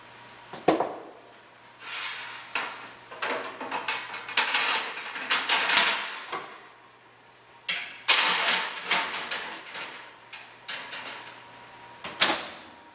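A coconut bread pudding dish goes into a 350-degree oven in a home kitchen: a series of close metallic clunks, rattles and bumps, with door and rack clatter coming in bursts and short pauses between.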